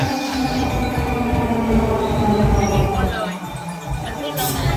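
A train arriving at a station in Osaka, Japan rumbles steadily close by with faint squeals of metal, and people talk over the continuous roar.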